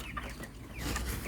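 Broiler chickens about 29 days old cluck in a crowded poultry house, with several short, overlapping clucks close by over a constant barn hum.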